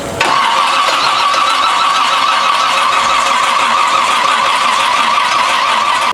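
A Toyota Land Cruiser engine cranks and catches, then runs loud and steady with a rough, raspy roar through a damaged muffler, held at high revs throughout.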